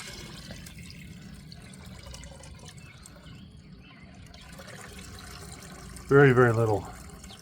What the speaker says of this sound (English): we're going to go ahead and pour that into this same bucket.